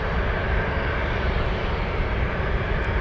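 A UPS Boeing 747 cargo jet roars on its takeoff run, a loud, steady, broadband engine rumble that holds constant throughout with no voices.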